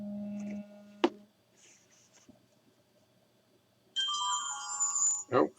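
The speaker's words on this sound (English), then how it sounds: "Oh, I'm getting a text message." A phone's text message alert goes off, a short bright electronic tone sequence near the end after a quiet stretch with a couple of clicks and a low hum earlier.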